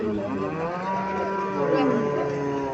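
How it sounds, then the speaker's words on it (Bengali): A Haryana dairy cow, a calm milking breed, moos in a long, loud, drawn-out call that swells slightly toward the end, heard close by with steady farm background. "এগুলো দুধের গাভী।"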